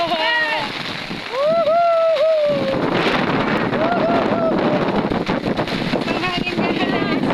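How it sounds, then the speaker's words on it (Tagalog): Strong gusty wind roars into the microphone during a heavy rainstorm, buffeting loudly and continuously while people shout and talk excitedly over it. "Ang hangin, guys."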